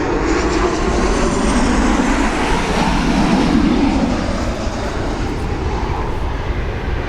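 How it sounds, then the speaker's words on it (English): Passenger jet passing overhead at Bora Bora in Ibiza, a broad, steady roar that fills the whole stretch, swelling slightly in the middle and easing off, loud and close with no talk. "I was going to have to wait till this plane goes over."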